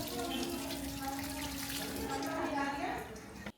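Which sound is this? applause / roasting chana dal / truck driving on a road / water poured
water poured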